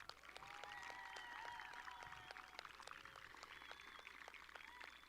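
Applause from a graduating middle school class of 2020 at a ceremony, a steady crowd of clapping with sharp individual claps over a dense wash, sustained throughout without talk.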